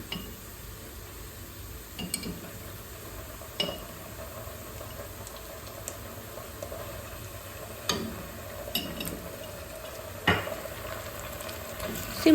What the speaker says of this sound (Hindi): सिंपल प्याज को जो है ना मैं हल्का सा फ्राई कर लूँगी।